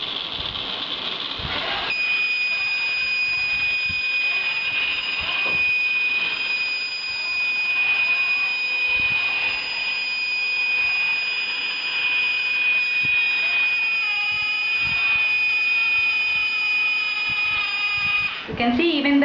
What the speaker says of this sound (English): buzzer is going to give you the indication of your wrong movement of your robot